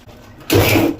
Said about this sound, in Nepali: मैले यो मिक्सरमा पिसे डन्ठालाई